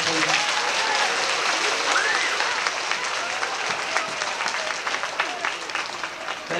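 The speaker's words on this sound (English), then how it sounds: "Will you give Mark a big round of applause," Audience applause fills the room, broad steady clapping from a crowd sustained throughout, gradually thinning slightly toward the end.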